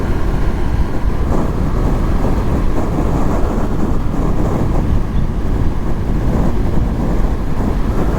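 Strong wind roars into a microphone outdoors beside a Honda VFR800 motorcycle, a loud, constant low buffeting rumble that continues without pause.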